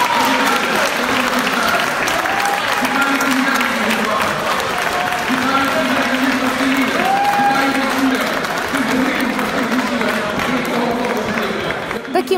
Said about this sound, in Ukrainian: Такими оваціями закінчилося у другому читанні голосування Верховної Ради за медичну реформу